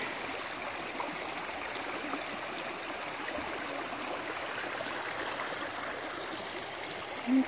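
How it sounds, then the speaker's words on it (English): A flowing creek gives a steady, even rush and gurgle of running water, close and continuous with no voices. "I love the creek."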